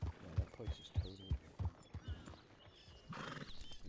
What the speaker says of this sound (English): Poor horse looks like he's ready to collapse.